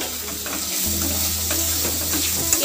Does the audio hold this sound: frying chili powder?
yes